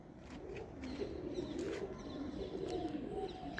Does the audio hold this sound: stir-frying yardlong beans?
no